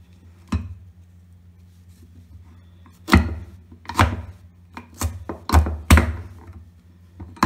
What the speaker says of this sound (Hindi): इस तरह से आप आम की 4 कली कर लें और छोटे छोटे पीस काट लें।